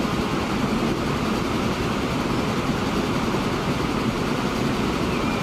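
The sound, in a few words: train passing in video game Transport Fever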